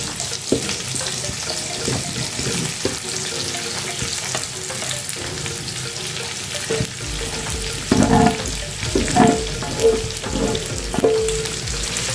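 Boiled cassava is stirred into a sizzling masala in a pan, a continuous frying hiss with a run of louder spoon scrapes and clatters toward the end, no voices.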